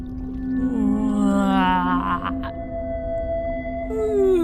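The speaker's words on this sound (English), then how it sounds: "It was a pod of a dozen whales." Whales vocalizing as a sound effect in an audio drama: long, slowly gliding tonal calls rising and falling over a low underwater rumble, steady and fairly close.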